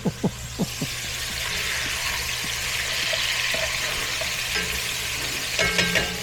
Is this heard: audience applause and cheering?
no